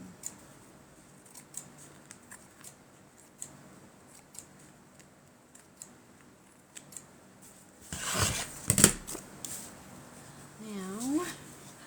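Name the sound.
cutting paper for a junk journal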